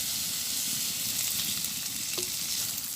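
Oil sizzles steadily in a pan while loitta fish is fried for a village-style Bangladeshi bhorta, a continuous close hiss with a brief clink near the end.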